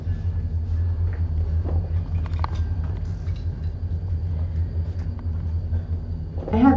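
A train passes near a Vermont Climate Action Council panel discussion, a steady low rumble filling the whole stretch with faint scattered room noise above it.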